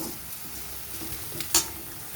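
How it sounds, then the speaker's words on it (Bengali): Potato peels fry in hot oil in a wok, a steady soft sizzle with light stirring scrapes and one brief sharper clatter near the middle. "এবার আমি এগুলো একইভাবে ভেজে নিয়ে তুলে নেব"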